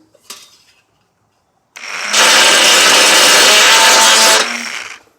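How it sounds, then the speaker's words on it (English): A small power drill with a wider bit boring into a jewelry piece, a light tap first, then a loud steady whine for about two and a half seconds that cuts off abruptly. "just go around it with the wider tool, with a wider drill."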